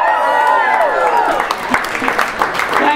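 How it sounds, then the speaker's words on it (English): Scattered audience applause at a live stand-up comedy show for an 82-year-old comedian, brief claps rising behind fading speech and laughter, moderately close. "Thank you for that whooping sympathy applause."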